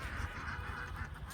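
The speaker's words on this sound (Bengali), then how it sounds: "এই এখানে দেখতে পাচ্ছি একটি হাঁসের খামার করেছে এই নদীর পাশে" Ducks quack at a riverside duck farm on the Atrai River, a crowded chorus of honking calls overlapping one another in a continuous, close, fairly loud stream.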